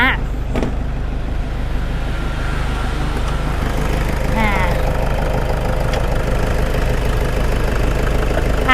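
A 2005 Toyota Vigo pickup's 2.5-litre diesel engine idles steadily at close range, a low continuous rumble with a faint knock, and someone speaks briefly over it in Thai.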